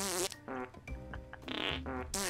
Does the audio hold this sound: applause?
no